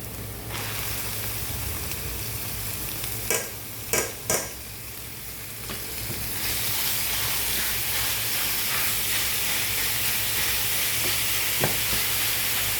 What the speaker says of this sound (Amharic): እንደዚህ ማማሰል አለብን።